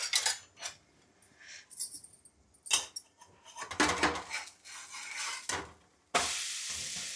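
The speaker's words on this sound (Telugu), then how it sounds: "అయితేనండి ఇప్పుడు అట్టు తిరిగేద్దాం." A dosa being turned with a spatula on a hot pan, scraping and clattering bursts between quiet pauses, then a loud steady sizzle that rises and holds at the end, close with no talk.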